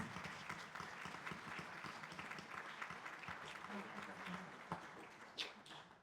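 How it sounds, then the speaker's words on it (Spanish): An audience at a book presentation applauds as a guest is welcomed, a faint but steady patter of clapping filling the room at a distance, with a few louder claps near the end. "Recibamos también con un aplauso al doctor Mario Javier Bogarín Quintana"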